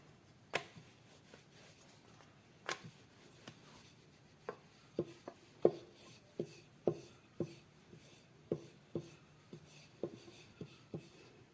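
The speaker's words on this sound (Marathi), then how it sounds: "बाजूच्या कडा वगैरे अशा पातळ अशा लाटून घ्यायच्या आहेत." A rolling pin works rajgira (amaranth flour) chapati dough thin on a board, giving a steady series of soft knocks and taps, roughly one or two per second, close and fairly quiet with no talking.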